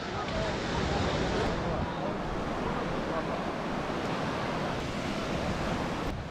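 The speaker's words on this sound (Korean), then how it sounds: "그리고 파도가 아까 말했듯이 진짜 좋아." Ocean waves break continuously at a beach in Bali, a broad steady wash of surf with strong wind rumble across the microphone, loud and unbroken throughout.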